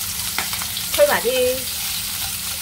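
Pork ribs fry in a pan with a steady close sizzle, while a short chirpy voice or squeak rises briefly over it near the middle and a few people speak softly.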